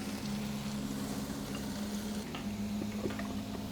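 Beef sizzling steadily in a pan on a home stove while a pre-workout meal cooks, a continuous close frying crackle with a low hum underneath and no talk.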